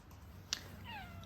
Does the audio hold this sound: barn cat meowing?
yes